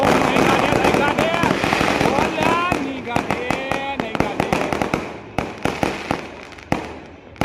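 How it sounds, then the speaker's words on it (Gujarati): Firecrackers bursting at night during a kite festival for Makar Sankranti, a dense crackling barrage that thins into separate sharp bangs and pops, loud and close, with whistling rockets early and people talking over it. "આમ બધા ફટાકડા જોઈ શકો છો તમે કેવા ધીપા ધીપ બોલે છે ફટાકડા."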